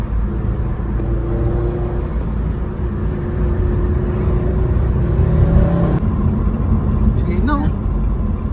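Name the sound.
turbocharged car engine revving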